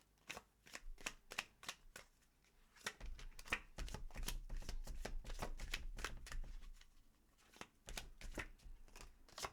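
Tarot cards shuffled by hand in quick bursts of crisp riffling and flicking, close and clear, with brief pauses between runs and no talking.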